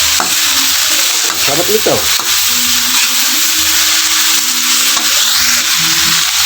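Food with jackfruit being sautéed and stirred in a hot pan, a steady loud sizzle with scraping stir strokes, while a person speaks briefly.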